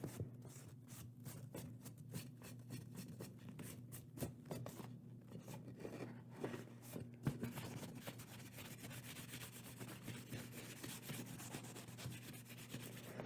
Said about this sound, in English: after you sand something, you should wipe off your project